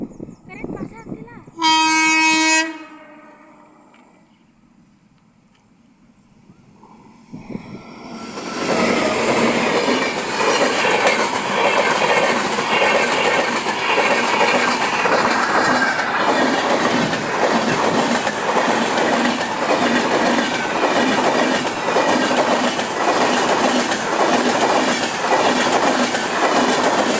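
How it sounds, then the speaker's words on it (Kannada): A WAG 9 electric locomotive hauling the Shivamogga–Bangalore Jan Shatabdi superfast express sounds a brief loud horn, then after a quiet gap thunders past with continuous loud rumbling and rhythmic clickety-clack of wheels. "ನಮ್ಮ ಎಲೆಕ್ಟ್ರಿಕ್ ಟ್ರೈನ್ ಇವಾಗ ಬಂದೇ ಬಿಡ್ತು ನೋಡ್ರಿ"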